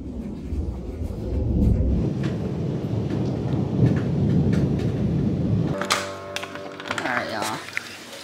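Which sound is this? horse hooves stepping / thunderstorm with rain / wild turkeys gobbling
thunderstorm with rain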